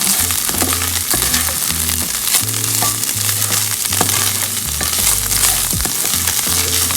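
Stuffed-pepper filling stirred back and forth in an oiled pan, a steady close sizzle broken by repeated scraping strokes of the spoon, with no talking.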